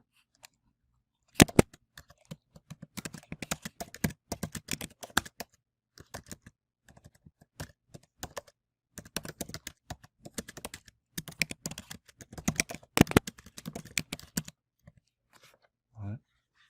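Steady computer keyboard typing as a message is composed in a course inbox, rapid close key clicks in runs with short pauses, alone without voices.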